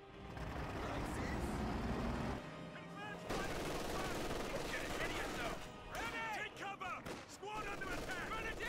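Machine gun fire in Company of Heroes 2, with bursts from an MG and a Vickers crackling amid battle noise and engine rumble, dense and continuous while a commentator talks over it.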